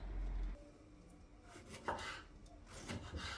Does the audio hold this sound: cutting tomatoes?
yes